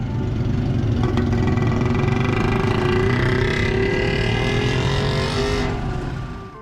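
Street traffic in Hyderabad, a loud, close engine drone with a vehicle accelerating and passing, its pitch rising then fading toward the end.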